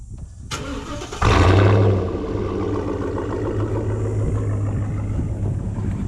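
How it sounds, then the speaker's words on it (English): A 2014 Ford SVT Raptor pickup with a cold air intake and Corsa exhaust fires up with a sharp, loud flare, then drops into a deep, rumbling idle that continues steadily, close by. "the cold air intake and the Corsa exhaust are why it's going to sound the way it does"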